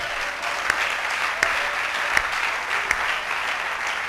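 A congregation applauds steadily at a French-language church service, a dense continuous wash of clapping with a few sharper accents, no voices standing out.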